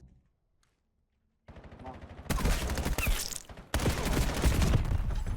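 Rapid automatic gunfire in a multiplayer shooter video game: after a near-silent start, a quieter stretch of shots gives way to loud, dense bursts of fire that continue to the end.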